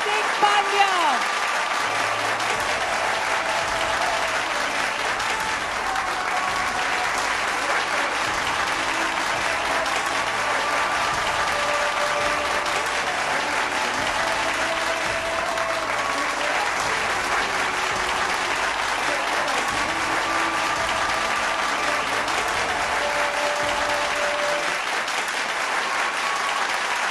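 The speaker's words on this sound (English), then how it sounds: "A biggest round of applause for Hardik Pandya." A large crowd at a wedding celebration applauds Hardik Pandya, with sustained, even clapping that carries on for the full stretch, while a voice and faint tones sound underneath.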